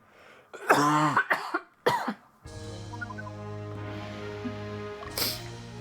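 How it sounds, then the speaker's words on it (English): A close, loud run of three harsh coughs in the first two seconds, followed by quieter game music playing alone during an Ogre Battle 64 session. "sorry, had to cough"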